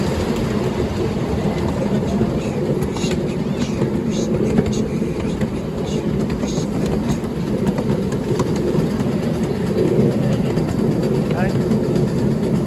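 A miniature railway train on the Dragon Miniature Railway rumbles past at close range with a continuous, loud running noise and faint rhythmic clicks from the track. Voices can be heard underneath.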